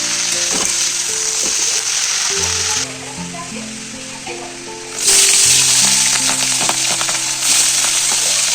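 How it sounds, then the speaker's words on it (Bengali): Spinach frying with lots of onion in a home kitchen pan, a steady broadband sizzle that runs throughout, with stirring clatter and a brief quieter dip midway before the loud frying resumes. "শাক কিন্তু আমার ভাজা প্রায় রেডি হয়ে এসছে"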